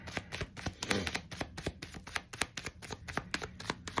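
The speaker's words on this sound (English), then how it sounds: "Just watching the shuffles on camera." Tarot cards being shuffled by hand, a rapid series of crisp riffling snaps and soft slaps, close and quiet, with no talk.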